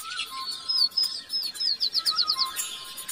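Small birds chirp and tweet at 5 am in a village in Banaskantha district, Gujarat, with quick high repeated notes in bursts over a quiet rural background.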